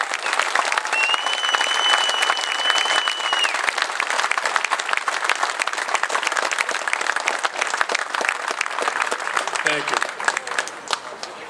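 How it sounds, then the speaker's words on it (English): An outdoor rally crowd gives veterans a long round of applause, dense continuous clapping from many people at steady strength, with a few cheers and a brief spoken thanks near the end. "Give a big round of applause to these folks"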